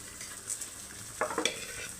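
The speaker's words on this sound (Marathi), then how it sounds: "आणि आता मी इकडं चिकन शिजायला टाकत आहे कढईत." Marinated chicken frying in a kadhai for biryani, a soft steady sizzle with a few brief louder bursts of stirring and spatter near the end, fairly quiet overall.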